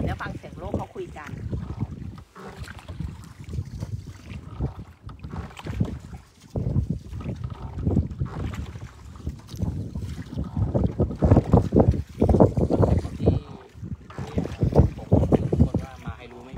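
A boat engine rumbles steadily on an evening boat ride on a Thai river, with heavy wind buffeting the microphone and rising and falling throughout.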